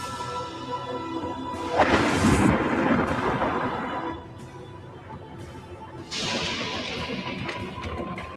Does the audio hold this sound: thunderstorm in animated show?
yes